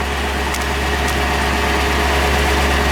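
A 2009 Ford Crown Victoria Police Interceptor with true dual exhaust idles close by, a steady, loud, low rumble that holds evenly without revving.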